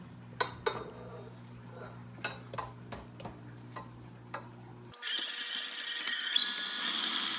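Twenty-four ounces of cream cheese being creamed for frosting: a spoon or spatula taps and scrapes against a bowl in a series of clicks, then an electric mixer whirs steadily and loudly.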